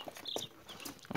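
Chicks of a special mixed breed, red naked-neck type, give a few short close peeps and chirps in quick irregular bursts.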